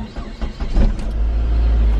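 A Saab 9-5 engine cranks briefly and then catches, settling into a steady, close, low idle that runs on without talk.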